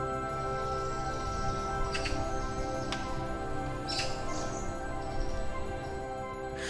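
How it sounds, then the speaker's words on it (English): Soft birdsong in a quiet forest, with a few thin, brief chirps rising over a faint steady background hiss, distant and gentle, with no voices. "The forest was quiet, and birds were singing softly in the trees."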